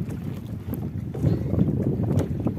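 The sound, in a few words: strong wind at sea on a fishing boat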